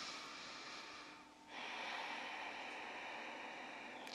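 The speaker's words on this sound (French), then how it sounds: "C'est une respiration qu'on utilise en yoga, la respiration Ujjayi." Ujjayi yoga breathing through the throat, a long, steady, hissing breath that pauses briefly and then resumes. The breath sounds close and continuous, with no speech over it.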